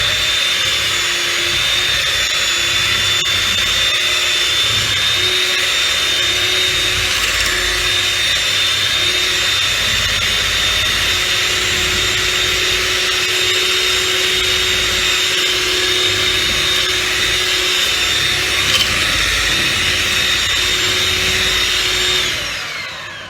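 Electric hand blender whirring steadily while mixing apple pie batter of flour and other ingredients in a bowl, a loud continuous motor whine that runs unbroken for over twenty seconds before stopping.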